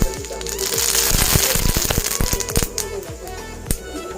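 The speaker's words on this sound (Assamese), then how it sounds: "সাৱধানে, কাৰণ কলা সৰিয়হ বহুত ফুটে" Black mustard seeds pop and crackle in hot oil for an Assamese fish and brinjal curry: a dense burst of sharp, close snaps that thins into scattered pops.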